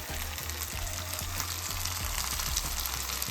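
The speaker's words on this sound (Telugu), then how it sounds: "సో ఇలా లైట్ గోల్డెన్ బ్రౌన్ వచ్చేంత వరకు పీస్ ఇలా ఫ్రై చేసుకోవాలి" Chicken pieces for a curry fry in a pan until light golden brown, giving a steady close sizzle with repeated soft scraping strokes of a ladle and no talking.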